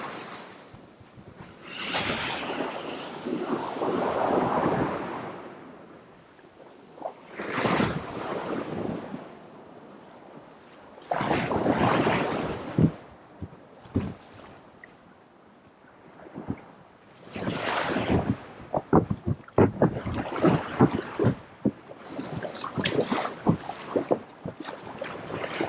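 Paddle strokes and splashing water at sea off Tonga Quarry in Abel Tasman National Park, New Zealand, coming in bursts with surf and wind gusts between them and long quieter gaps.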